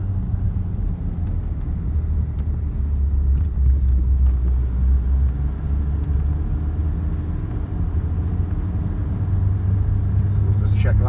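A Nissan 4x4 engine pulls steadily up a hill, a loud continuous low rumble heard from inside the vehicle, swelling slightly toward the end.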